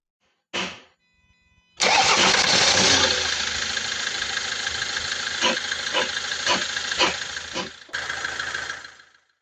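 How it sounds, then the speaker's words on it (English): A brief click, then a van engine cranks and catches, roaring up before settling into a steady, loud idle close by. "start your engine and keep it running for around 5 minutes"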